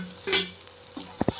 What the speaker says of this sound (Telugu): ఇప్పుడు క్యాప్సికమ్ అండ్ బాయిల్ చేసిన పొటాటోస్ వేసుకొని ఫ్రై చేస్తూ ఉండండి